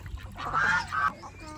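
Ducks and ducklings let out of their pen give short honking, quacking calls, two louder bursts standing out from faint background chatter and movement.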